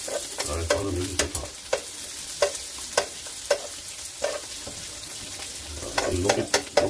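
Dried filefish tossed in gochujang sauce in a pan, with repeated scraping stir strokes over a steady low sizzle, close and fairly loud, no voices.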